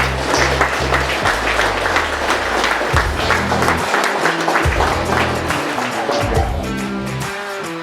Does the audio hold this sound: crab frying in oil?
no